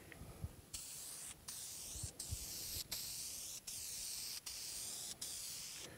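Short repeated bursts of spray lacquer hiss onto a guitar body, about eight quick pulses separated by tiny gaps, close and fairly soft, with faint low knocks underneath.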